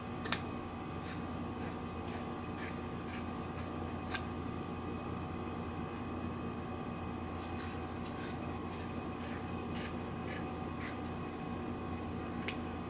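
Scissors snip away excess embroidery casing after the hoop is removed, making a series of small, sharp cuts spaced through a steady low background hum.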